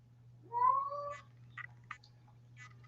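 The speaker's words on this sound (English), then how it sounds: "I don't know who's meowing." A cat gives one clear, drawn-out meow near the listener, followed by a few brief faint rustles and clicks over a steady low hum.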